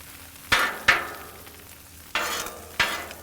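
Eggs for an omelet cooking on a Blackstone griddle, four sharp scraping spatula strokes over a soft sizzle, close by, with no talk.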